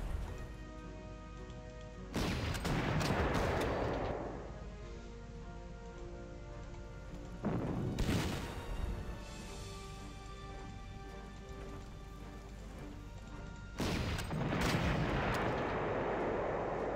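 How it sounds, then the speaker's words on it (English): Anti-tank gun fire in the wartime strategy game Panzer Campaigns Rommel, three heavy booming shots spaced several seconds apart, each trailing into a long rumbling decay over a constant low background. "He goes for the anti-tank gun."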